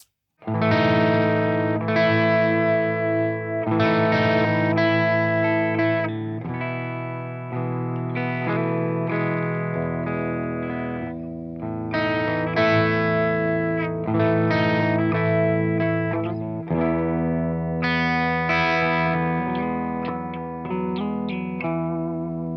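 Electric guitar, a Newmann GT40, through an Electro-Harmonix Big Muff fuzz and delay, playing sustained chords and notes for a long stretch, loud and close with no talking.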